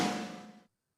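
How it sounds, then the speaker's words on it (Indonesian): A single snare drum hit from the Real Drum app rings out briefly, bright and close, then decays and cuts off to silence within well under a second. "Kemudian ketuk snare."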